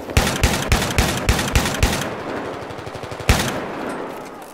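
A DAO-12 shotgun fires in the video game Battlefield 3, a quick run of about seven loud, evenly spaced blasts, then a pause and one more sharp shot, with no voices.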